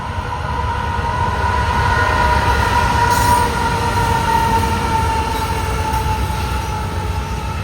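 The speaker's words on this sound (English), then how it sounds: "We got CSX coming down. Oh, looky here. Canadian Pacific." A loaded Canadian Pacific ethanol freight train rolls past New River Junction, its steady, loud rumble of wheels and cars filling the scene without pause, with a faint whine of wheel noise on top.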